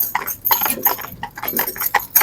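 Friesian horses' hooves clip-clop on a country road in a steady, fairly close rhythm, with faint background noise between the strikes.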